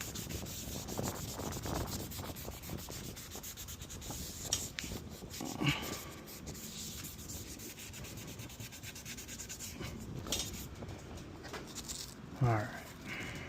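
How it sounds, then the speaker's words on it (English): Dry sandpaper rubs over plastic trim during a full restoration of a 2017 Infiniti QX70, a continuous close scratchy rasp with uneven strokes and a few soft knocks. "it does a super good job of dry sanding without gunking up."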